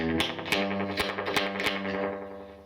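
Electric guitar chords, slightly out of tune, strummed through a Raven amplifier with reverb and a slightly gritty tone, ringing notes overlapping and decaying, played alone at moderate volume.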